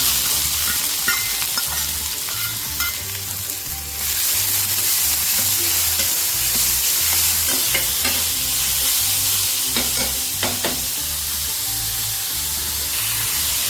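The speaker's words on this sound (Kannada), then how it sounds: "ಎಣ್ಣೆ ಕಾದ್ಮೇಲೆ ಆಗಲೇ ನಾನು ಹೇಳ್ದಂಗೆ 3 ಮೆಣಸಿನ್ಕಾಯಿನ ಕಟ್ ಮಾಡ್ಕೊಂಡಿರೋ 3 ಮೆಣಸಿನ್ಕಾಯಿ, ಸೈಜ್ ಕಟ್ ಮಾಡ್ಕೊಂಡಿರೋ ಈರುಳ್ಳಿ" Three chopped green chilies and sliced onion fry in hot oil, giving a continuous near sizzle with scraping and clacking from stirring, plus a few sharper spits and pops partway through; nobody speaks.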